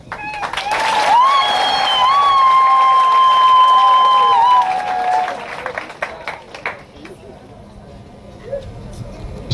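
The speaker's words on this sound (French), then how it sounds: "je voudrais vous prier de bien vouloir faire une ovation pour vous tous et vous toutes qui êtes là" Audience ovation at a gathering of young volunteer communicators, with loud sustained clapping and cheering from a crowd for about five seconds, then fading into scattered claps and low murmur.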